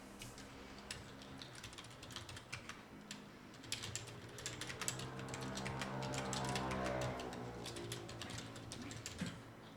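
Steady rapid keystrokes on a computer keyboard while entering data into an Excel spreadsheet, close and moderately quiet, clicking on without any voices.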